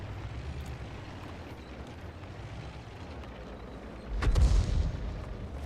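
A single deep, heavy boom of enemy artillery fire landing in a tank battle game, fairly close, over a constant low engine rumble.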